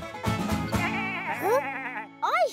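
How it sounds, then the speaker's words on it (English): A cartoon sheep on a farm bleats several times in quick succession, loud and close, with wavering, quavering cries; the last bleat comes after a brief pause. "I hear sheep."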